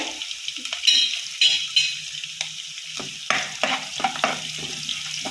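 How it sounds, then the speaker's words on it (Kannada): Curry leaves and garlic fry in hot oil in a pan, giving bursts of crackling, spitting sizzle that come and go with stirring. Irregular scrapes and clatter cut in over a fairly quiet hiss, with no talking. "ಇಷ್ಟು ಕರಿಬೇವು ಬೆಳ್ಳುಳ್ಳಿ ಒಂದು ಆರು ಏಳು ಪೀಸ್ ಅನ್ನಲ್ಲ ಹೀಗೆ ಸ್ವಲ್ಪ ಫ್ರೈ ಆಗಬೇಕು"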